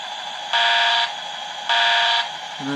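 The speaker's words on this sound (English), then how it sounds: "and the horn" An Mtroniks micro sound unit in a Roundhouse Criccieth Castle model shunter locomotive gives two short electronic horn blasts over a steady engine hum, evenly spaced and fairly loud.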